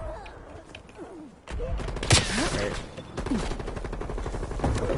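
Assault rifle fire in a Call of Duty match comes in rapid automatic bursts and single cracks, loud and close, mixed with other game sounds and some voices.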